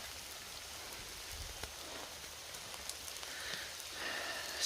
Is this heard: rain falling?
yes